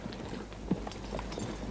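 Horse hooves clip-clop in a few soft, scattered beats at moderate distance, with one sharper knock standing out over a low background murmur.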